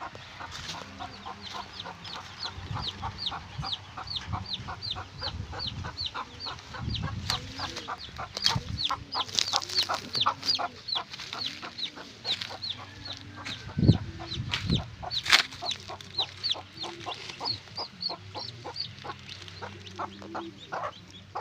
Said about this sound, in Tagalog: nailagay na natin lahat ng kanyang mga sisiw dito sa kanyang piling